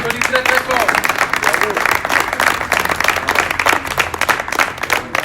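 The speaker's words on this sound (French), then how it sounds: "Mesdames, messieurs, est-ce qu'on peut l'applaudir très fort," Audience applause at a live comedy show, dense steady clapping filling the room for several seconds, with voices mixed in underneath.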